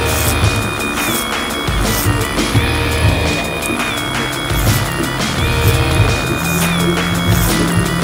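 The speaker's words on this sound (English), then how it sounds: "That was the no look clipper over comb" Hair clippers cutting hair over a comb during a pompadour haircut, a close continuous electric buzz with repeated whining passes as the blades move through the hair.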